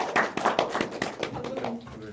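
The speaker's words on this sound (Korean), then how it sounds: "박수 부탁드릴게요" A cinema audience gives a short burst of applause at a Korean film talk event, scattered claps close and fairly loud for about two seconds, with a voice speaking over the tail end.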